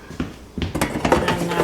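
Pork tenderloin being set into an air fryer basket, a few close metallic clacks and knocks of the basket sliding and seating, short and fairly loud.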